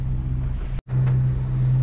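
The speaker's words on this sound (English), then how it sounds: "The wind just came back" Wind blowing over a Lagoon 42 sailing catamaran at sea under full sails, a steady loud rushing buffet against the microphone with a brief dropout partway through.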